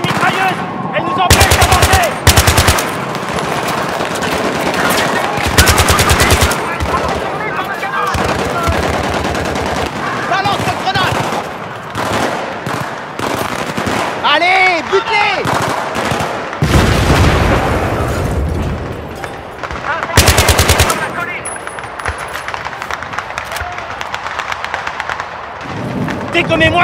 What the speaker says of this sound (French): Dégommez-moi ces mitrailleuses! Elles nous empêchent d'avancer! Mitrailleuse ennemie de l'autre côté!